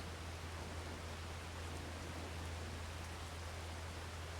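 Steady rain falls in the Farming Simulator 25 video game, a continuous even hiss under a low, constant hum, with no talking.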